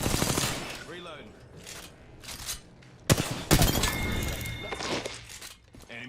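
Video game gunfire: rapid bursts of automatic shots and sharp impact cracks, loud and close, broken by brief pauses, with a second heavy volley midway.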